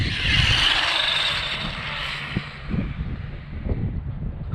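Hobao Hyper 9E 6s electric RC drag car passing by, a loud high-pitched whine that peaks early and then fades away. A few sharp knocks and rattles follow.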